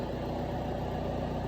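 A John Deere 6320 tractor, its injection pump replaced, runs right after start-up with a steady, loud low diesel rumble and no break.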